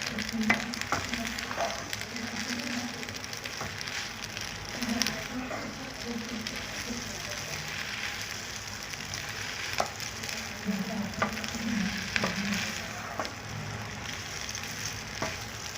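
Chicken vegetable macaroni stirred in a pan, a soft steady sizzle with intermittent scraping and clicking of a spoon against the pan, fairly quiet and close, with faint speech at moments.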